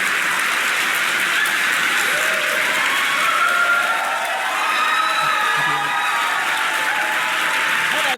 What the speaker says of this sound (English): Do you hear the crowd?